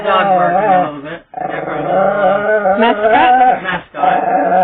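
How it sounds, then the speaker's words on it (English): A dog barks and growls close by in a loud, sustained, wavering run that breaks off twice for a moment before starting again. "the dog barking a little bit"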